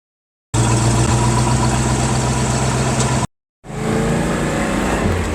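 A 1966 Chevelle SS 396 V8 idles loudly and up close with a steady, deep rumble that cuts out briefly, then settles back into the same even idle.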